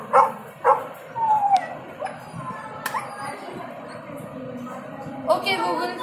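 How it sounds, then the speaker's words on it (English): A dog sound played by a Google Assistant device barks and yips in short bursts, a few sharp woofs early on, heard over a room with some background clatter. "how does a dog bark?"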